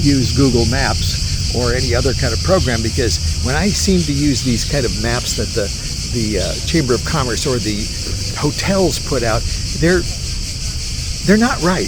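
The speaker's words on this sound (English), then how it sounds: "I think you can hear the cicadas in the background" Cicadas in a park in Athens make a steady, high, hissing drone in the background, continuous and fairly loud, under someone talking throughout.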